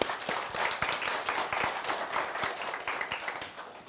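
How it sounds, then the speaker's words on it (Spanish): Audience applause at a master's degree graduation ceremony, a dense, continuous burst of many hands clapping for several seconds at moderate distance, with no talk over it. "Un aplauso para él, por favor."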